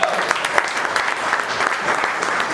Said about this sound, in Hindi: ताली बजा दो एक बार।